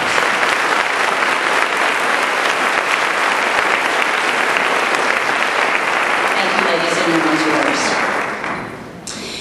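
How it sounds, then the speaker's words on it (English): Sustained, loud applause from a banquet audience honouring women scholars, dense clapping that carries steadily before tapering off near the end. "So once again, applause for our scholars."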